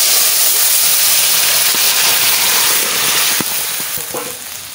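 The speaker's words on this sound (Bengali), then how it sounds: "গোটা জিরে দিয়ে দিচ্ছি" Whole cumin seeds hitting hot oil for a taro and fish curry, giving a loud, dense sizzle and hiss that crackles on and eases slightly at the end.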